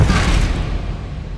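Confringo blasting spell explosion in the video game Hogwarts Legacy, a single deep booming blast that hits loud at once and then rumbles away over about a second.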